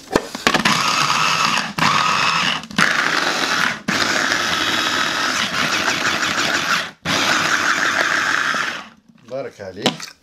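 An electric grinder blends chopped onion with coriander in loud, continuous whirring bursts, stopping briefly several times and pausing near the end.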